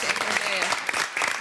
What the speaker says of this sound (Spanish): Este aplauso para ustedes.